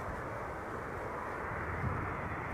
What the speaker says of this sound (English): So, KLM flight 682, arriving from Vancouver, Canada. The PHAOA, an A330-200.